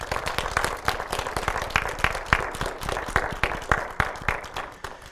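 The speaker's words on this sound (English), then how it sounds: "can we give Jack a loud applause?" Applause from an audience at a corporate career day honoring a mentor, individual claps distinct and rhythmic across the whole stretch, moderately loud with a thin crowd.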